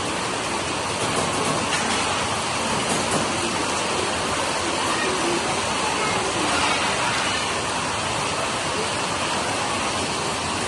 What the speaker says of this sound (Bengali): বৃষ্টির যে জল পড়ছে সে জল সেখানে স্টোর হচ্ছে